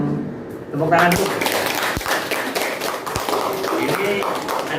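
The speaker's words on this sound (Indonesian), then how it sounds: "Tepuk tangan dulu." A class full of pupils claps during an Islamic religion lesson, the hands breaking in after a short quiet moment and carrying on as a dense patter with a few sharper slaps.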